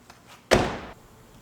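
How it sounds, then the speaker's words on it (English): A Lexus IS car door shuts with one sharp close thunk at a door latch, followed by a short fading rattle, preceded by faint handling clicks. "Make sure our door lock and handle work."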